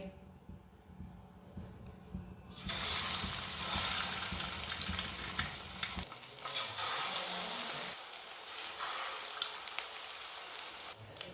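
Potato and capsicum kebabs dipped in besan batter drop into hot oil, setting off a sudden burst of crackling sizzle that stays loud and dense with a few shifts in intensity.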